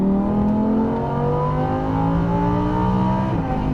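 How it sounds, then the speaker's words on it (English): A Lamborghini Huracan accelerates at full throttle on a track, its engine a loud, close, steady roar that climbs in pitch through the gears, with no talking. "And now squeezing on power, full throttle."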